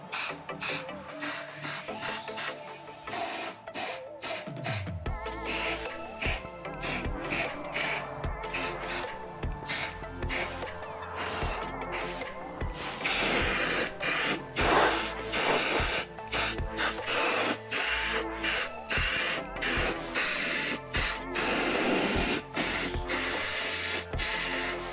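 Rust treatment is sprayed onto surface rust on a Mazda Bongo van in repeated hissing bursts, some short and choppy, others long and continuous, loud and close with no talk.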